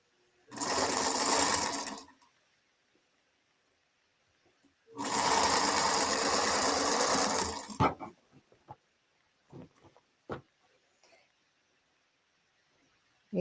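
A home sewing machine stitching a pie-themed project in two steady, loud bursts of rapid mechanical whirring, the second running longer, followed by scattered clicks and handling knocks.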